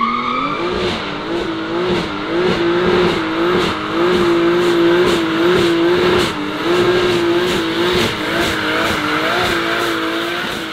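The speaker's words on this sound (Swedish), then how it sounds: "nu åker vi ut och åker lite med 740" A Volvo 740 sleeper tuned to over 1000 horsepower drives hard, its engine roaring loudly and continuously with repeated rising revs and gear changes, close and dominant throughout.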